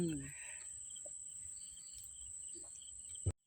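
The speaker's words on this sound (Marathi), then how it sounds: "रातकिड्यांचा आवाज आहे ना किरकिर" Crickets chirping at night by a river while people are out on a boat, a steady high-pitched trill running through the quiet, with a sharp knock right at the end.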